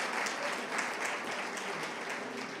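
A church congregation applauding during a Sunday celebration service, a soft, even wash of many hands clapping at a distance, continuous from start to finish.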